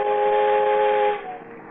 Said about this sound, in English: Oh, maybe just whistle.